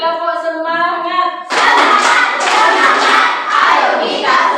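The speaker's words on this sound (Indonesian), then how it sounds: "Sekali lagi, tepuk semangat." Schoolchildren in a classroom do a rhythmic spirit clap: a quick, loud series of group claps that starts after a brief stretch of sustained, tonal voices.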